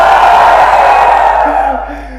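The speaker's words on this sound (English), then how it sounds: "No, give me a flagship cheer." A large audience at a Xiaomi Redmi K20 launch event in India lets out a loud cheer and roar that trails off, with a voice beginning to speak as it fades.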